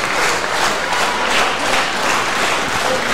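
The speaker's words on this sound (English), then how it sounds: "Crowd trying to get behind Zachzilla." Wrestling crowd at a tag team match cheering and applauding steadily throughout, a dense, continuous wash of claps and voices with no clear commentary on top.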